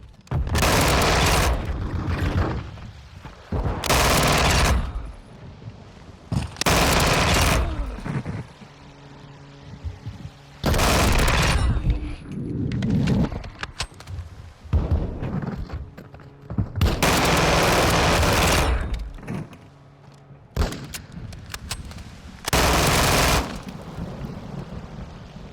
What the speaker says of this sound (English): a fully automatic pistol with no range